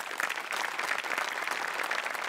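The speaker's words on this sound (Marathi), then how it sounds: "त्यांच्यासाठी एकदा टाळ्या वाजल्या पाहिजे." Dense audience applause in a live comedy show studio, a steady even roar of many clapping hands at moderate loudness throughout, with no talking over it.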